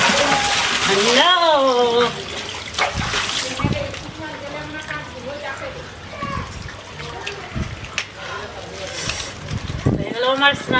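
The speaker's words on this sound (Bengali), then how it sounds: "এগুলো আমার স্নান করা।" A person bathing in cold weather, pouring water over themselves in bursts of splashing and pouring, with talk in between the pours.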